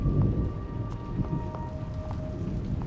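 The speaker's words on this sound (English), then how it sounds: "Oh, it's raining outside." Rain falling outside in the horror game The Evil Within, a steady close patter on surfaces with a low rumbling undertone and scattered droplet ticks, with no one talking.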